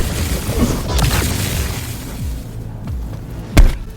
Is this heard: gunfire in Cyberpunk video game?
yes